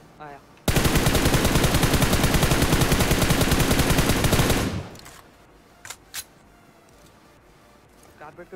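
Sustained rapid automatic gunfire from a shooter video game roars loudly for about four seconds, then cuts off, followed by sparse softer game effects and clicks.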